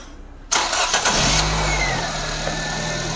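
A Nissan Livina X-Gear with an automatic transmission cranks and fires up close by, then settles into a steady idle with a faint whine over the engine hum; nobody speaks.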